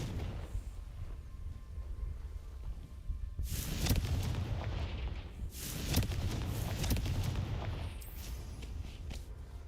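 A Confringo fire-blast spell going off in a wizard video game, two heavy booming explosions a couple of seconds apart with rumbling decay, loud and close over a low ambient drone.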